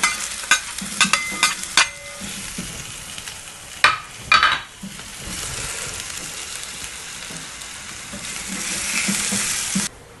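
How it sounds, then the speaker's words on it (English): Onions fry in a little oil in a pan for smash burgers, a constant sizzle heard up close with sharp clicks and scrapes of stirring early on and a frying hiss that swells toward the end. "What we're going to do is fry off our onions first."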